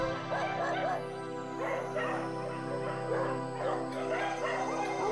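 Many dogs at a Thai shelter bark, yip and whimper at lunchtime, an overlapping chorus of fairly close barks over a steady low hum, with a voice heard faintly in the mix.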